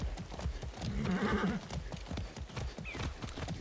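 Horse hooves clip-clop in a steady, close rhythm in the video game Far Cry 6, with a short whinny rising over the hoofbeats partway through.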